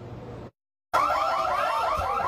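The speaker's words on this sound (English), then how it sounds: "You're hearing the store alarm wail." A store alarm wails inside a New York City french fry restaurant during a brawl: a loud, steady, rapidly warbling electronic siren that cuts in abruptly after a brief silence and continues without pause.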